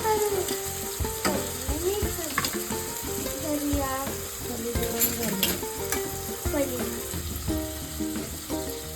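Chicken biryani is stirred with a ladle in a hot pot, repeated scraping and clanking strokes over a soft sizzle, close and fairly loud, with no voices.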